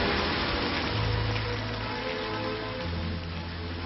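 Steady rain pours down in an animated cartoon, a dense continuous hiss with a low hum running beneath it and no voices.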